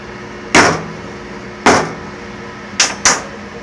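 Four sharp hammer strikes on solid asphalt, each a short crack with brief ring; two spaced apart, then two close together near the end.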